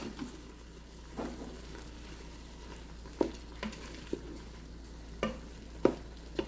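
Six or seven garlic cloves are stirred in a pot, a soft sizzle beneath a series of distinct spoon scrapes and knocks spaced every second or so.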